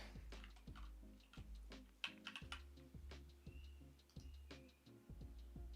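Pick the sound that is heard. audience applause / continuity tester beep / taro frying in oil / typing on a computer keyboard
typing on a computer keyboard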